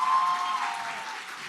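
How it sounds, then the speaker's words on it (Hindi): An audience on a stage event gives a steady wash of applause, dense clapping from a crowd that holds and then slowly fades. "फिर एक बार तालियां हो जाएं।"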